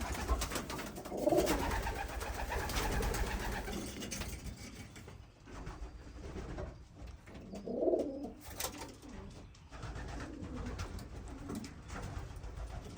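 Racing pigeons coo in low, soft rolling calls at intervals, set against a faint mechanical clatter and background hum.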